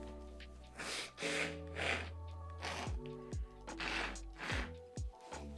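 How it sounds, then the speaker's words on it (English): A person sick with COVID blowing their nose in several wet, snorting bursts, close and fairly quiet, with short pauses between blows. "Let me just blow my nose."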